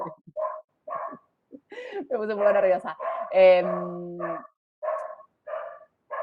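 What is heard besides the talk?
dog barking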